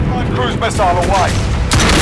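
Modern Warfare battle noise of gunfire and booms around a cruise missile launch, loud and continuous, with a sharp burst near the end and a voice speaking over it.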